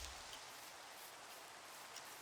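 Steady, even rain in the video game Minecraft, played with the ATM 11 modpack, a soft continuous hiss of falling drops heard alone without any voices.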